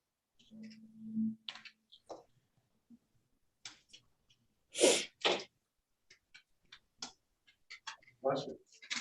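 A single sharp sneeze bursts out in a quiet room, surrounded by faint scattered clicks, taps and soft background murmurs.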